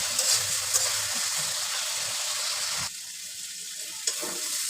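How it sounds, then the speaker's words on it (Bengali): Spices for a boiled egg curry fry and get stirred in a pan, giving a steady, close, loud sizzle that softens partway through, with faint scraping of the stirring. "ডিমের মশলাগুলো একটু কষাই নেব"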